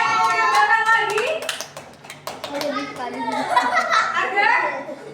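Schoolchildren in a classroom clap their hands for a classmate, a burst of close, uneven claps mixed with kids' chatter and voices throughout.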